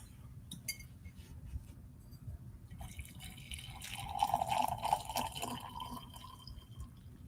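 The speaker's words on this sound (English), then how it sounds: "I love the sound of coffee being poured and the aroma." Coffee being poured into a cup, a soft steady trickle of liquid with faint clinks of glass or ceramic, swelling midway then easing off, quiet and close with no talking.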